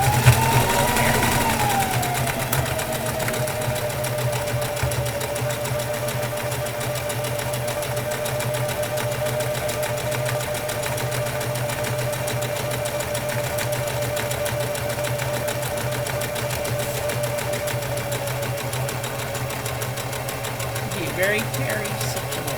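A domestic sewing machine stitches fabric in a long, steady whirring run, close and moderately loud, slowing near the start and stopping briefly toward the end.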